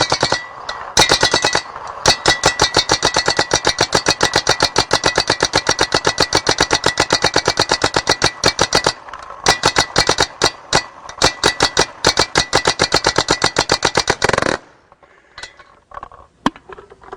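Smart Parts Vibe paintball gun running on CO2 fires a long, rapid stream of sharp, close shots for about fourteen seconds, the cadence faltering slightly near the end before it stops.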